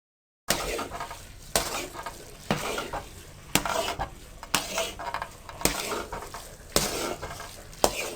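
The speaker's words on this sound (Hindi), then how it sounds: "सूजी डालने के बाद से मैं इसको तकरीबन मुसलसल चम्मच चला रही हूँ" A spoon stirs semolina and milk halwa as it roasts in a pan, giving close scraping strokes in a steady rhythm about once a second over a soft sizzle, with no talking.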